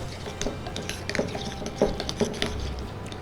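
A spoon stirs a spoonable paneer tikka marinade in a bowl, soft wet mixing with light scrapes and clinks against the dish, close and without talk.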